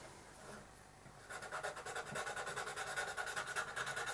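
A skinny sanding stick works along the seam of a Sgt York scale model kit part. It starts as faint rubbing, then turns into quick, regular back-and-forth scratchy strokes, close and fairly quiet, with no voices.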